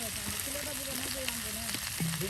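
Ground spice paste frying with potatoes in a pan gives a steady, even sizzle and hiss that runs throughout at moderate loudness.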